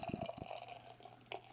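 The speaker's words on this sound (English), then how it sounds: "Let's get it poured." Hop Butcher For The World Lord Octopus beer poured into a glass: a soft, close liquid splash and gurgle with a few brief bursts early, then a quieter steady trickle and a small splash near the end, with no talking.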